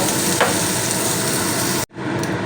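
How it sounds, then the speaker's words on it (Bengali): Prawns fry in hot oil with a dense, loud, close crackling sizzle that cuts off abruptly near the end, then resumes more quietly. "চিংড়িগুলো ভাজা হয়ে গেছে চিংড়ি খুব হালকা ভাজতে হয়"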